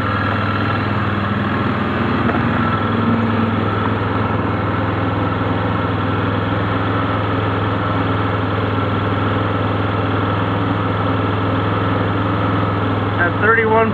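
A 2013 Polaris Sportsman ATV engine idles with the choke on, a steady, close, continuous drone with no change in pace.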